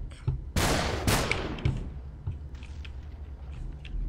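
Two loud, sharp blasts of gunfire in the game Superhot ring out in quick succession, followed by quieter scattered pops and thuds.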